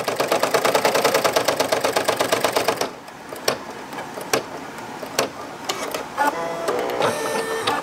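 A Brother PE-770 embroidery machine stitching an iron-on patch: a fast, even mechanical chatter of needle strokes for about three seconds, then a steadier hum broken by scattered clicks and ticks, loud and close, with no talking.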